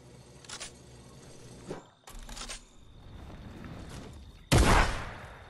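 A few gunshots in Fortnite: two short sharp bursts early on, then one loud close blast near the end, with a quiet background between them.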